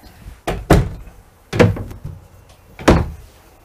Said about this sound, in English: all of these drawers are on self-closing